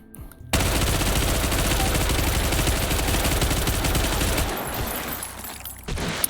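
Fully automatic .308 rifle in a video game, firing a sustained rapid burst of rounds for about five seconds, loud and dense, then tapering off with a final shot.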